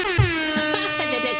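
A human voice imitates a crow's harsh call, making a sustained, buzzy honk like a lorry's horn that lasts over a second at close range.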